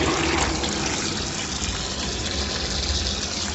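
Water gushes steadily from an outdoor tap in a loud, continuous splashing rush that lasts from start to end with no pauses.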